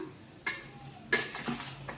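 A few quiet scrapes and clinks of a utensil stirring fried fish with taro stolons in a pot, two or three separate strokes close by.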